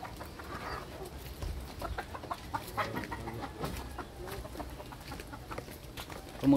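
Chickens cluck and murmur in short, scattered bursts across a farmyard, moderately close, with steady background noise and no clear talking.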